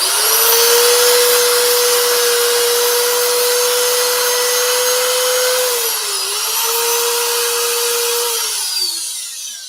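Wood spins on a lathe under sanding, giving a loud, steady high whine with a constant hum that dips briefly and tapers off at the end.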